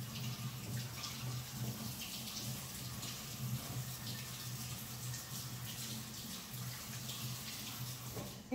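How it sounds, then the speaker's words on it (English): Faint, steady tap water pours over two bunches of Brussels sprouts in a colander in a home kitchen, a continuous soft splashing stream with no talking. "So I'm gonna rinse them in the colander and let them kind of set."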